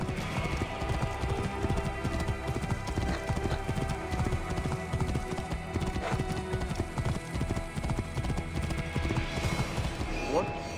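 Horse hooves clip-clopping in Assassin's Creed Origins, a steady rapid gallop rhythm throughout under game dialogue and a brief whinny near the end.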